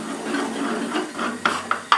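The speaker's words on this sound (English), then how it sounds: "I'm stirring all the time and you see the flour mixture," A spoon stirs a flour roux in a pan as milk is added to make a basic sauce, a soft continuous scraping with a few sharper clinks near the end, close and moderately loud.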